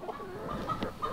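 A rooster on a farm clucking softly in a few low, short calls over a steady outdoor background hum, fairly close but quiet.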